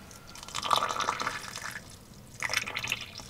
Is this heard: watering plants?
yes